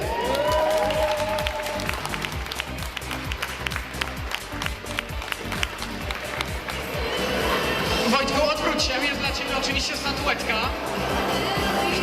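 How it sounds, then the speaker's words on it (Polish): Audience applause at a Polish coffee championship award ceremony for Ibrik/Cezve brewing, loud and sustained for about twelve seconds, with music and an announcer's voice running underneath before the clapping swells toward the end. "Jeszcze raz brawa!"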